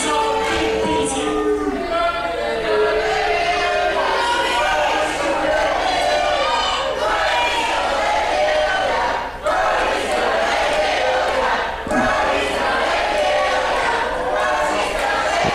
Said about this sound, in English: Crowd firing up Brody Cross.